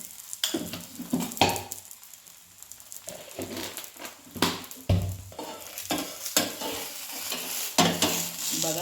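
Egg poli, an egg flatbread, cooks in oil in a kadhai wok: a steady sizzle with irregular scraping and clattering strokes on top, close and fairly loud, with no talking.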